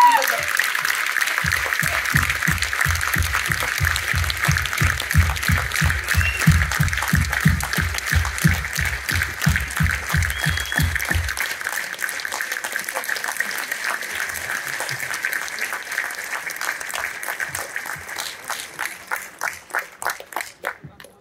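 Loud, sustained applause from a large crowd at an RCM business motivation event honoring a Ruby Achiever, shifting into fast rhythmic unison clapping with a steady beat underneath, then continuing as dense clapping for about twenty seconds.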